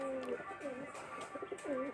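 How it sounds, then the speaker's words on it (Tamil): Pigeons cooing inside a breeding cage, soft repeated rolling coos with a few faint chirps, close but quiet against light background noise. "இது நம்ம கேஜுக்கு வந்து புதுசாக வந்த புறா"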